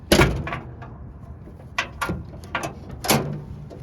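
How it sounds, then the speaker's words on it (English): Clicks, clunks and a scrape of metal as someone reaches under to release and lift the hood of a classic car, several sharp mechanical knocks spread irregularly across a few seconds, close by and without speech. "So I'm going to open up this hood"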